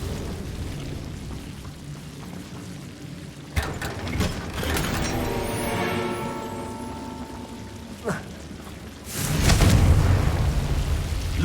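A Confringo spell blast in the video game Hogwarts Legacy, a sudden boom that swells into a crackling, rumbling burst, followed by another sharp hit and a louder surge near the end, all over steady background ambience.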